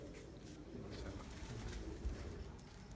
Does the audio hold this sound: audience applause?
no